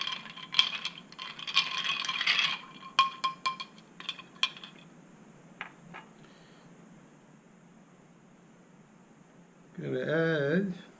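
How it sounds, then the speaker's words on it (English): An Irish iced tea cocktail with blue curacao gets stirred in a glass, bright clinks and rattles of ice knocking the sides in a busy burst, then scattered taps trailing off, with a voice speaking briefly near the end. "stir that up a little bit"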